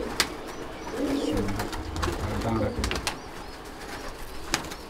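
Low, soft cooing from a female pigeon in a pigeon loft, a few murmuring phrases close by amid rustling and handling noise, with a voice speaking faintly in the background.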